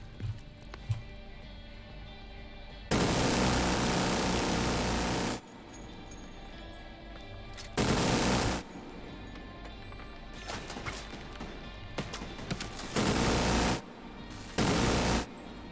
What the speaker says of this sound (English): minigun time